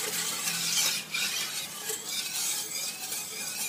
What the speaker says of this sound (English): we want to add our sugar. We're going to need 1 1/4 cups of sugar. Mix that in as well.